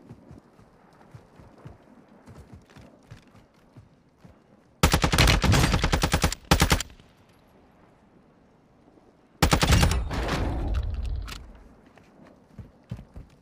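Two long bursts of rapid automatic gunfire from a weapon in Call of Duty on Ashika Island, loud and close, separated by quieter stretches of game ambience and footsteps.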